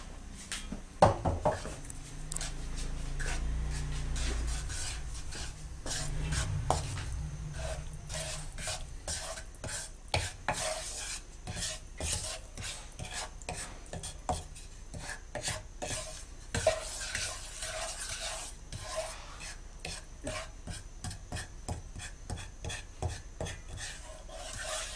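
Flour roasting in ghee in a pan for a sweet halwa, stirred with a spoon that scrapes and clinks against the metal again and again in an irregular, busy rhythm over a low frying hiss, close and steady with no talking.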